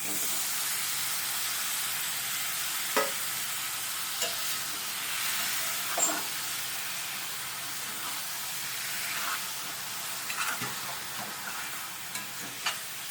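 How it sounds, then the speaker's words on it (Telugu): Mutton liver sizzling and frying in a pan while being stirred, a steady close hiss with occasional soft scraping knocks from the spoon, no talking. "లివర్ వేసుకొని బాగా కలిపి 10 నిమిషాలు సిమ్లో అలా ఉంచి ఫ్రై చేయండి."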